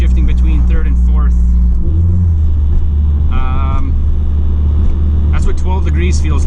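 Turbocharged Mazdaspeed 3 with a big turbo running 26 PSI of boost accelerating hard, a loud, steady engine roar and rumble from inside the cabin that climbs through a brief shift, with faint voices mixed in.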